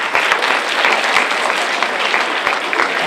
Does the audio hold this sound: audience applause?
yes